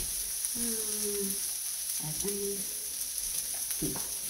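Onion cooks in a pan with a steady, fairly quiet sizzle running underneath, close by. Brief tonal clatters of a utensil come at intervals, and no one speaks.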